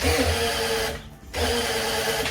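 A failing power drill whirs steadily, cutting out for a moment before spinning back up at the same pitch.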